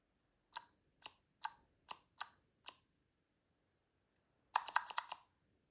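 A mechanical keyboard key clicked out SOS in Morse code: three short taps, three longer evenly spaced presses, then three quick taps, crisp and close with silence between.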